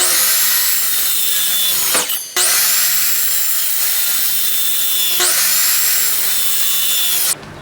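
A power saw cuts 2x4 lumber into 10-inch sections, a loud whining cut running for a couple of seconds at a time, with brief pauses between three passes.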